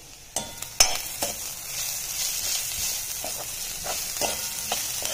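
Onions frying with salt in a pan sizzle in a steady hiss while a spoon stirs them, giving several sharp scraping clicks and strokes against the pan over the continuous frying noise.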